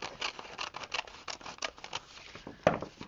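Scissors snip through paper and thin card on a steampunk mixed-media wood panel, a quick run of soft crisp cuts followed by one louder, sharper snip near the end, close by and with no talk.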